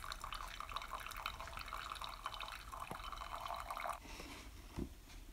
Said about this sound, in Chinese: 然后我们再倒上水，倒上开水。